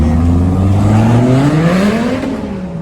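Supercars pull away from a car meet, one loud engine rising in pitch as it accelerates and sweeps past close by, the roar easing slightly toward the end, with some voices mixed in.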